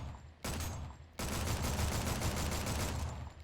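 A new C-UR gun fires in the XERA Survival video game: a sudden loud burst, then a second one that runs into a sustained run of closely spaced, heavy reports.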